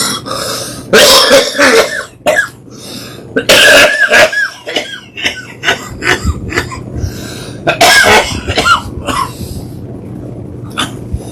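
Harsh, repeated coughing fits come in several loud bursts with short pauses between, close up, followed by lighter throat-clearing coughs.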